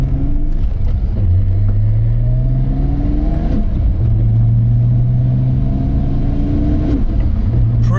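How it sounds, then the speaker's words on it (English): A 700 hp Nissan R32 GT-R with a GTW3884 67 mm turbo pulls in first gear at about quarter throttle, its engine climbing to around 3,000 rpm in repeated upward sweeps, loud and close from inside the car. "We're into 1st gear. I'm only going to rev the car to 3 grand."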